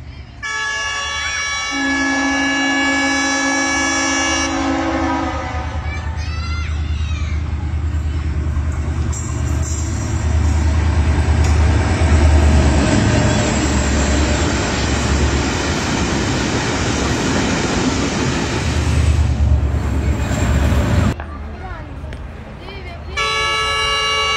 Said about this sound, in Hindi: ये video coat Radha Kishan railway station की है जब मालगाड़ी की आमद हो रही थी